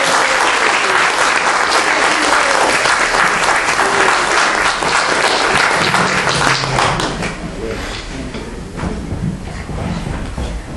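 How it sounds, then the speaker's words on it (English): A big round of applause from an audience at a talk, dense continuous clapping that is loud and full at first, then thins and fades toward the end. "Big round of applause for Holly."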